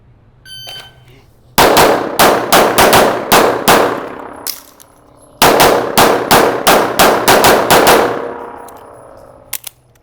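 Two rapid strings of loud gunshots at a crisscross shooting drill with a speed reload, about eight sharp cracks in each burst, separated by a short pause, close and dominant with ringing decay.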